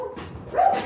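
Puppies, apparently bulldogs, giving a short yip or bark close by, a single brief burst rising at the end.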